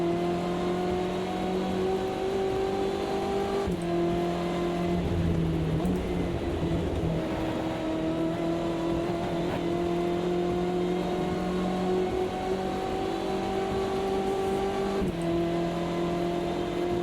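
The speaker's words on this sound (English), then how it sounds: "Certainly the engine noise in this car isn't as theatrical as the Porsche." Steady droning GTE race car engine in Automobilista 2 during a wet multi-class race, held at a loud near constant pitch with brief gearshift breaks, sustained throughout without talk.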